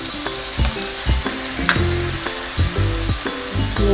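Soy sauce hits a hot pan of onions and red chili flakes for spicy pasta noodles, giving a loud close hiss and sizzle broken by repeated rhythmic scraping and stirring strokes, with no voices.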